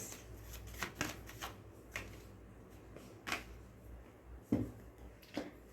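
Tarot cards being shuffled by hand, a series of soft riffling bursts and taps at irregular intervals, close and quiet with no talking.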